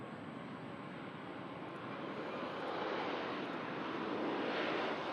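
An Airbus A321 airliner arrives after a three-and-a-half-hour flight from Istanbul, its broad jet engine roar steady and fairly distant, swelling slightly louder toward the end with no talk over it.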